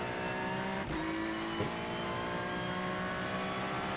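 Race car engine in the iRacing sim game, a continuous loud drone holding steady with a slight pitch shift partway through, alone with no talk.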